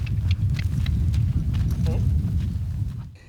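A ridden quarter horse's hooves clip-clop steadily on the ground at close range, a continuous rhythmic beat over a loud low rumble of outdoor noise.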